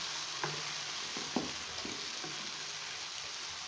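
Chicken sizzles and fries in a karahi, a constant hiss of hot oil broken by a few clattering stirs of a utensil, close and moderately loud with no talk.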